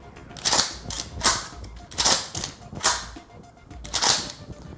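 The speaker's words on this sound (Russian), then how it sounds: "Зажимаем разобщитель и тянем цевье на себя." A Remington 870 pump-action shotgun is unloaded by pulling the forend back: a series of sharp, close mechanical clacks and rattles of the action, arriving in uneven bursts about every half second.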